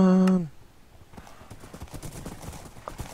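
Rapid hoof clatter from a Minecraft party-game horse race patters on steadily after a brief tonal game sound at the start, with a quiet background.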